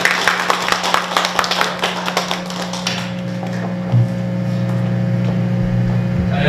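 An audience at a health lecture event claps for about three seconds, a dense patter of hand claps that dies away into a steady room hum.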